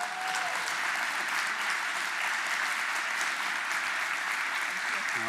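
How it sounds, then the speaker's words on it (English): A conference audience at the UXPA 2019 opening keynote applauds as the speaker is introduced, a steady, even wash of clapping from many hands, moderately distant and unbroken. "Let's give her a round of applause."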